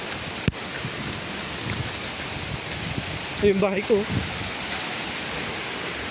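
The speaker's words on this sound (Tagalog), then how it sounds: "Ayan guys, nabutan tayo ng ulan." Steady rain falls outdoors in Homa Bay, Kenya, a broad even hiss throughout with a sharp knock near the start; someone talks briefly over it.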